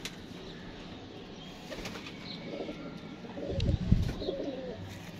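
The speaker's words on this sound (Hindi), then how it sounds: "पूरी शैनी कबूतरी इसमें" A rooftop pigeon, a blue female among the flock, gives low coos over a rustling background, with a louder burst of fluttering and bustle near the end.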